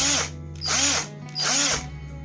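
Rewound motor of an NRT Pro DC 330 cordless drill, type RS 550, spinning up in three short bursts of high whirring with brief pauses between, close and loud, no talk.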